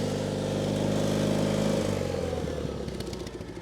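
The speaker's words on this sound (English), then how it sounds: "That engine sounds good though. No noises." A 37-year-old John Deere 316 lawn tractor engine runs close by with a loud, steady drone that eases down toward the end into a rougher, pulsing idle.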